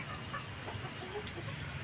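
Chickens cluck faintly in a backyard, with soft scattered calls over a steady background hum.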